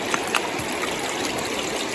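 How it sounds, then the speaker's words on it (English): Water gurgles and trickles down the middle of a forest hiking trail near a creek crossing, a close, constant bubbling stream with small splashes. "the water is running down the middle of the trail. I hear it gurgling over here."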